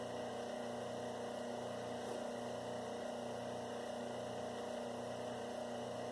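A copper wire stripper machine runs with a steady, low mechanical hum and a constant whir, with no change and no voices throughout.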